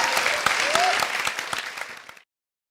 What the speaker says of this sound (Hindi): सोनम और आयुष्मान के लिए जोरदार तालियां हो जाएं।